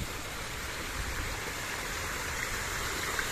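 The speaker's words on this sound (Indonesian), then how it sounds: "Oh, ini airnya. Airnya lagi kemerowocok." Water pouring steadily at an old bathing spring from the Kediri kingdom era, a continuous broad rushing and splashing that stays constant and fairly near throughout.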